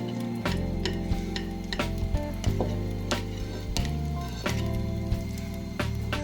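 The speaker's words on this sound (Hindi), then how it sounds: "अब इस प्याज को हम बर्तन में उस वक्त तक हिलाते रहेंगे जब तक ये नरम ना हो जाए।" Chopped onions sizzle in hot oil in a clay pot, with a steady frying hiss and repeated scraping clicks from a spoon stirring close by.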